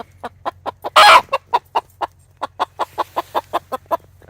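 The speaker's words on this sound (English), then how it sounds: "Ornery chicken." A hen that has been laying eggs in the wrong spot clucks in a steady series of short, close calls, with one louder burst early on. No one speaks.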